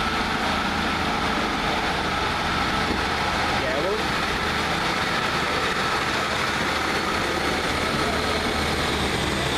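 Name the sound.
Arriva Trains Wales 152 diesel train departing Crewe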